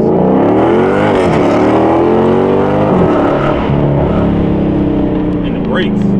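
A Dodge Scat Pack drives and accelerates, its loud engine note climbing and dropping through rising revs from inside or near the car, with a person talking over the steady roar.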